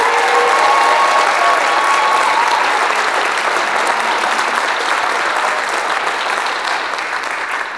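A crowd at a community college police graduation ceremony applauds the graduates, a loud, dense, steady clapping that sustains throughout and tapers only slightly toward the end.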